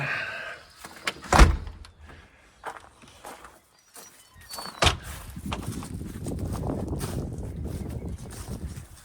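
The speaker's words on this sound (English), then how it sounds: "Pull the door shut." A sharp door thud, then a heavier slam about three seconds later, followed by low rumbling and shuffling in a quiet space.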